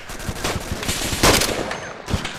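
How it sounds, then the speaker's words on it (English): Gunfire in a military video game: a rapid burst of machine-gun shots in quick rhythmic succession, loud and close, with a heavier crack midway and no talk over it. "Red, they appear to be shooting at you."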